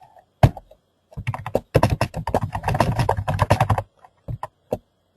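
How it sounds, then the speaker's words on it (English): Bursts of fast typing on a computer keyboard, close and fairly loud, with dense clattering keystrokes and a few isolated key taps before and after. "So now I've typed something in the screen here."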